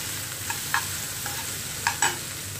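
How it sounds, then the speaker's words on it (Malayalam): Sliced onions sautéing in a pan for a snake gourd stir-fry, with a continuous soft sizzle and occasional stirring scrapes, close but quiet. "നമ്മുടെ സവാള ഒന്ന് വാടി വരുന്നത് വരെ നമുക്കൊന്ന് ഇളക്കി കൊടുക്കാം"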